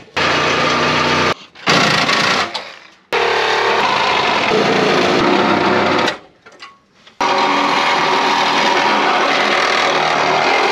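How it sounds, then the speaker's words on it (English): Hacksaw cutting through parts on a Mazda FB RX-7, a steady buzzing stroke-by-stroke rasp that stops and restarts in bursts, loud and close, with no talking. "Oh, you've never seen me with a hacksaw, have you?"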